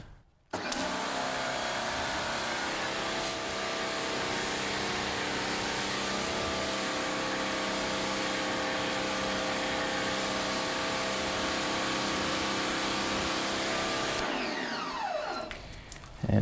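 Pressure washer rinsing dwelling foam off a car during a hand wash, a loud steady hissing spray running continuously for over ten seconds before cutting off near the end.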